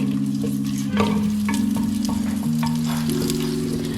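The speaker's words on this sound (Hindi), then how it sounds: "उसके बाद एक बड़े साइज का लेंगे प्याज, वो ऐड कर देंगे।" Chopped onion sizzles and crackles in a cooking pot while being stirred for an aloo matar moongre curry, a steady fry with scraping stirs over a constant tonal hum.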